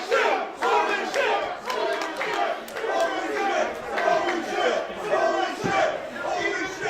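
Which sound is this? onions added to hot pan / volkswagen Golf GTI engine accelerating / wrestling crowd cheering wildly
wrestling crowd cheering wildly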